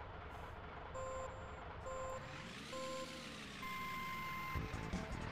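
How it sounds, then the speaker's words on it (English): A big truck in the racing game Stunt Race FX rumbles along under repeated high electronic beeps, its engine tone rising and falling in a sweeping arc over about five seconds. "it's time to drive the big truck again"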